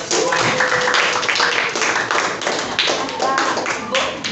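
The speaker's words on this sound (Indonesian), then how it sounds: "Tepuk tangan untuk kita semuanya." A class claps together after a civics quiz on Indonesian history, dense and fairly loud with a rough, irregular patter and some taps, voices mixing in underneath.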